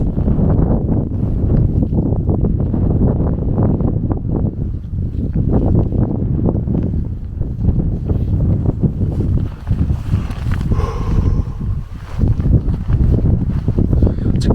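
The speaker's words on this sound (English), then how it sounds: "it is absolutely Baltic, bitingly cold wind" Strong, bitingly cold wind at a winter wild camp on a clear night, a loud continuous roar buffeting the microphone, rumbling and gusting without letup for the whole stretch.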